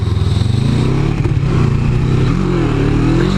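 A cruiser motorcycle revs and accelerates hard off-road for a wheelie attempt, its loud, close engine note rising and surging steadily with a clattering undertone throughout.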